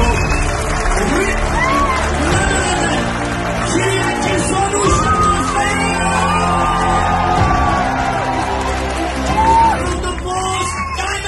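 A crowd at a business seminar roars with loud shouts, whoops and cheering, a dense close wall of voices throughout that sounds more like yelling than clapping.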